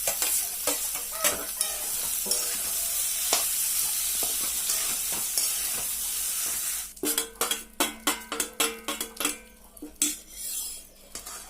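Mashed potatoes are stirred into a sizzling vada pav chutney in a pan, with a quiet fry and scattered scrapes at first, then a run of sharp, rhythmic clanks of a spoon against the pan near the end.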